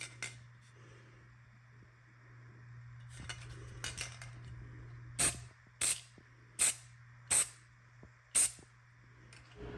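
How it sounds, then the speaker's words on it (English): Five short, sharp hisses from an aerosol can of Rust-Oleum high-performance gloss white paint hit a fiberglass shower in quick succession, loud and close, after fainter rustling and handling noises over a low steady hum. "I'll give it another two or three sprays and then let it sit for 48 hours."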